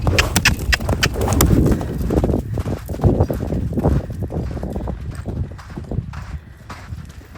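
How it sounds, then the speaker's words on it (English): Hooves clatter in a quick, uneven rhythm as loose horses gallop about nearby, the thudding steps continuing steadily throughout. "even though you've got loose horses in here"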